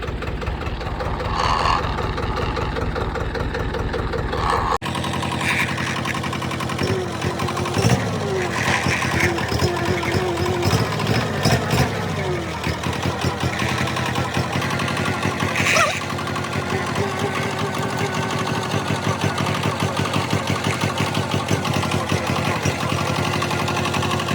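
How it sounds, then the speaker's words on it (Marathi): A tractor engine chugs steadily and loudly nearby, a rhythmic diesel knock that shifts in tone after a few seconds and keeps running throughout, with brief voices in the mix. "तर बघा मी कसं ट्रॅक्टर चालवतो"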